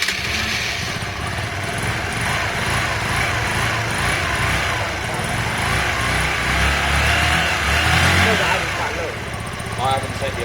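A Honda Varadero 125 motorcycle engine runs close by with a buzzy, uneven light-engine note, its revs rising and falling slightly throughout the clip.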